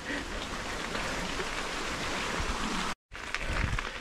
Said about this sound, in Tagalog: sarap ng tunog ng tubig, di ba? Ilog trip oh